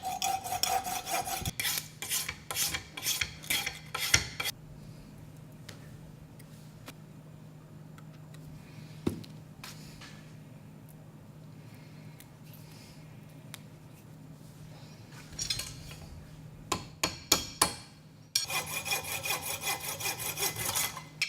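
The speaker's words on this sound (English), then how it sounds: "And I'll file it down." Hand filing on a small carved ivory detail, baleen inset as an eye: bursts of scraping rasp strokes at the start and again near the end, with a quieter stretch of light rubbing and a faint steady hum between.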